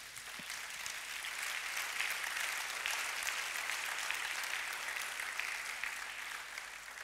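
A church congregation applauds to acclaim God, a sustained, even wash of many hands clapping that holds steady throughout.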